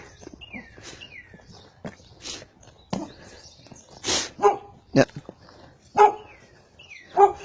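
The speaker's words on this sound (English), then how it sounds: "There's a doggy. Hi, dog." Several sharp dog barks ring out at moderate distance along an outdoor walk near an old staircase by a creek, with a short spoken word from a person and faint footsteps between the barks.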